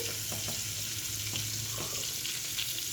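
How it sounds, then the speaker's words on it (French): A salmon fillet frying skin side down in a hot pan, a steady loud sizzle with crackling spits throughout, close and without talk. "ma poêle est chaude, donc je vais prendre mon pavé de saumon"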